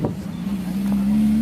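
A car cruises past at an Italian car show, a steady engine hum rising slightly and holding close and loud through the moment.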